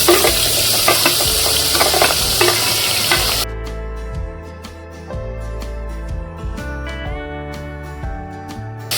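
Chopped onion sautés in a pan for a Marathi home-style lunch thali. A loud, steady sizzle runs throughout, with scraping stirs and occasional pan clinks, and no voices.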